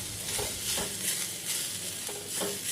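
Grated sweet potato stir-fried in a kadhai over a low flame, giving a steady soft sizzle broken by repeated scraping stirs, close and alone with no talking.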